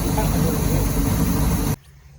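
An old junk boat engine running on land before a lake trip, a loud steady low rumbling idle that cuts off abruptly near the end of the two seconds.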